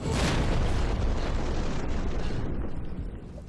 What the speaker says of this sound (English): It explodes over their head, it flips over the car and lands on the beach